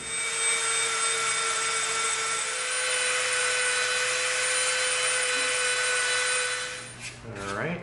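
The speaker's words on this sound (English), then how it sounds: "Now we're going to Dremel this inside edge." A Dremel rotary tool sands the inside edge of a cut EVA foam knife piece, a steady high-pitched whirring grind held close and loud, then winding down at the end.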